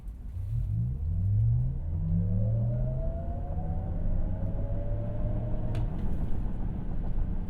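A 2025 Cadillac Lyriq electric car with 515 horsepower accelerates hard from a standstill in sport mode, a rising electric whine climbing steadily over a steady low road and cabin rumble.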